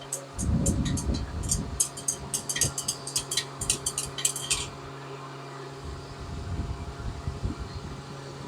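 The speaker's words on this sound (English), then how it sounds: "Get it good and stirred up here." An acidic chemical solution for refining palladium from e-waste is stirred in a container, giving a rapid run of rhythmic clinks and scrapes that stops after a few seconds, with low rumbling handling noise around it.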